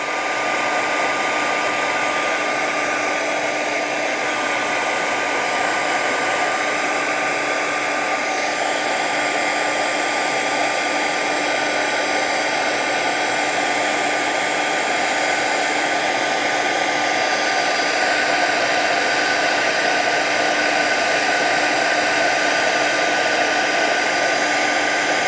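A hair dryer blows steadily on watercolor paint with gold accents, a loud, even whir that runs unbroken and alone from start to finish.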